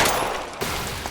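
Gunfire in the video game L.A. Noire: a quick, loud burst of rapid shots crackling together, packed into a brief, intense moment.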